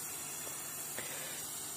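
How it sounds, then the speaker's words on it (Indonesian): A modified electric sprayer after a year of use sprays in a steady, continuous hiss that fills the whole moment at close range, with no talking over it. "masih kencang kekuatan semprotannya itu Mas Bro ya"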